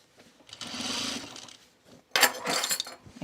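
A sewing machine stitches fabric for a V-neck coat in two short runs of rapid whirring, the second run louder and brighter after a brief pause.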